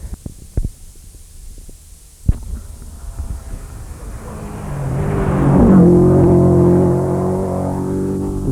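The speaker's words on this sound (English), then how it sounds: "Just gone by there, Brendan Fagan, number 4 from Dublin Chevette." A Dublin-entered Chevette rally car, number 4, racing on a stage of the Cork 20 Rally, its engine swelling from a distant drone into a loud roaring pass that holds near the end, after a few scattered thumps.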